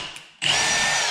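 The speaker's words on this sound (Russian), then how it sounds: "Вставляем обычное сверло по металлу и посверлим им дерево." A Milwaukee M18 FUEL FPD-502X cordless impact drill-driver, set to drill mode, bores into wood with an ordinary metal bit. The motor bursts on loud after a brief quiet start and holds a steady, close whine.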